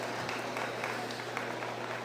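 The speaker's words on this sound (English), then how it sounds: "Let's put our hands together and show these folks showing Foundation Simmentals a round of applause." An audience at a market and breeding beef show claps for exhibitors of Foundation Simmental cattle, a brief, even patter of applause from a moderately sized crowd, fairly quiet and alone.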